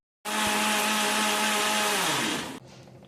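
Mixer grinder whirring loudly as it blends horse gram masala, starting abruptly, running at a steady high whine for about two seconds, then slowing and cutting off.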